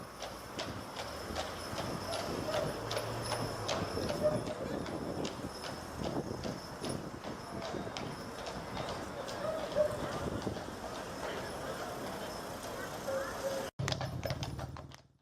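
Horses' hooves clip-clopping on a town street, a steady irregular patter of hoof strikes under ambient outdoor noise, moderately close, with a brief break near the end.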